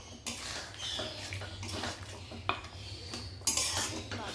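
A spoon scraping and clinking in a pan as mutton kosha is stirred with green chillies and meat masala, a series of quiet, irregular metallic scrapes and taps.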